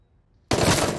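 A single sudden gunshot from The Boys TV series bursts in after a quiet moment, loud and abrupt, with a ringing tail.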